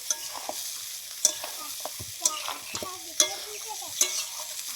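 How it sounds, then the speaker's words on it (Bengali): Fried potatoes, cut in large chunks, stirred into a thin curry in a pan, with a soft steady sizzle and scraping stir clicks spaced about once a second, fairly close and alone without voices. "এবারে দিচ্ছি ভেজে রাখা আলু"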